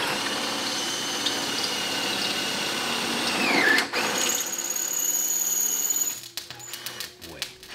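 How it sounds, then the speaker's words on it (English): A power drill bores holes through a wagon frame, a loud close whine that bogs and pitch-drops midway, then revs again before stopping, followed by scattered clanks. "So we're gonna drill these holes"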